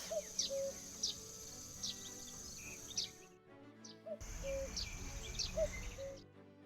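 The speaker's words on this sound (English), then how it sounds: "A cuckoo." A cuckoo calls in the video game The Night of the Rabbit, its repeated notes sounding over steady ambient birdsong and chirping, with a brief drop in the background partway through.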